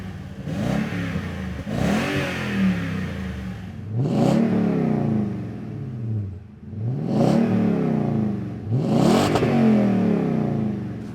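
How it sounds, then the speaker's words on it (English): A Toyota Tundra fitted with an MBRP Armor Light single side-exit exhaust with polished tip revs up in five or six loud, rising blips, each falling back toward a rough idle, with no talk. "a great example of this type of exhaust is one that we looked at earlier, which was the MBRP Armor Light single side exit exhaust system with the polished tip."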